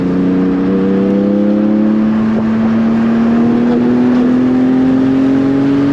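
A Porsche Cayman GT4 engine revs steadily while driving, its loud continuous drone rising gradually in pitch across the run as the car pulls, with no talking over it.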